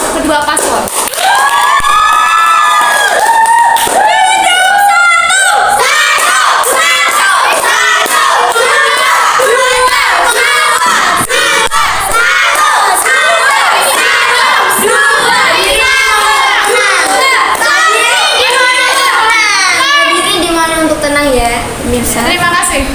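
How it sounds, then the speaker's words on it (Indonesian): A large election-debate audience loudly cheers, shouts and applauds for the two candidate pairs, a dense, sustained roar that stays strong from start to finish. "Hadirin diperbolehkan untuk memberikan tepuk tangan yang paling meriah untuk kedua paslon"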